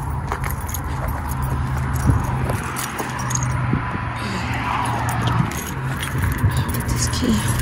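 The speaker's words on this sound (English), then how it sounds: "I got too many keys too." A bunch of keys jingles in sharp metallic bursts that repeat irregularly over a steady low hum, loud and close by.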